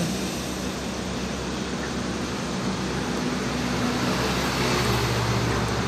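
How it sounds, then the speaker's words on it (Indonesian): Putra Pelangi Perkasa intercity bus pulling away from the Pekanbaru terminal, heard as a steady broad rumble and hiss of engine and road noise that swells slightly toward the end, with no speech. "Bus Putra Pelangi Perkasa sudah bergerak dari loket terminal Pekanbaru."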